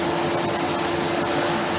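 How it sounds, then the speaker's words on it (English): AEG Deluxe Electronic 608 Black Line vacuum cleaner running close up on a lino floor, a loud steady broadband whoosh with a constant high whine throughout, no talking. "You can vacuum with it like that as well."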